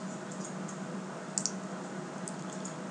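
A computer mouse clicks softly against a faint steady hum, with a quick double click near the middle and a few lighter ticks around it, close and quiet.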